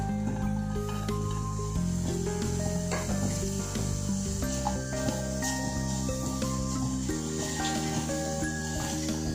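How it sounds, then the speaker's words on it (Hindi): Mawa (khoya) roasting in a pan over a medium-low flame while being stirred continuously, giving a steady soft sizzle and scraping under loud background hum and tones, with no talk. "मावे को हमें लगातार चलाते हुए भूनना है,"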